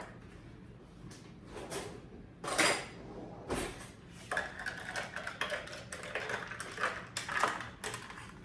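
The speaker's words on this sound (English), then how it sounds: "I need to stir it." A spoon stirring a cocktail in a glass, quiet irregular clinks and scrapes of metal against glass with a few louder taps, close up and heard alone.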